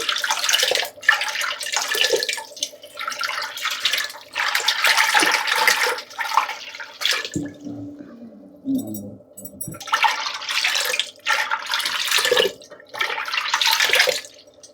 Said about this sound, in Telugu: వాటర్ అంతా ఇలాగ కలిపేసుకోవాలి